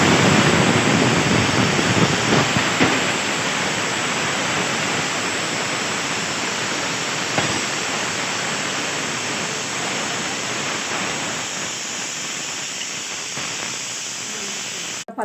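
Liquid pours steadily into a cooking pot in a home kitchen, a loud, continuous splashing hiss that lasts throughout and eases slightly toward the end.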